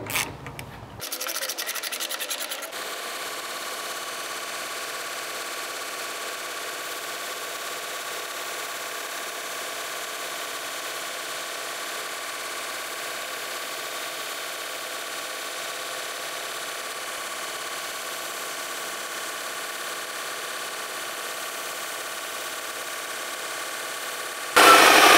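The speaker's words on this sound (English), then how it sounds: "Had to grind that corner down a little bit because it's hitting the transmission housing." Power grinder cutting down the corner of a radiator shroud on a 1967 Plymouth Barracuda so it clears the transmission housing, a steady loud rasping whine held for over twenty seconds after a brief start-up, with no talking.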